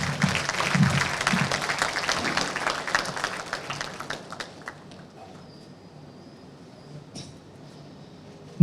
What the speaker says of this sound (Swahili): makofi makubwa kwa ajili ya mufti wetu